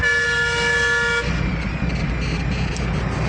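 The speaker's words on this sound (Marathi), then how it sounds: "समोर गाडी आहे त्या दिसतंय तरी बी हॉर्न मारते." On the Solapur–Pune highway, a vehicle behind the truck gives one sustained, loud horn blast of about a second, followed by the low rumble of road and engine.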